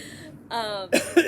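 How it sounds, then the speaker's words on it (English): A short pair of coughs, close and fairly loud, right after a brief stretch of speech. "It's not COVID, I'm just coughing."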